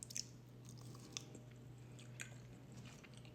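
Close, quiet chewing of Spanish tortilla, soft wet mouth sounds with a few small bites and squishes over a low steady hum.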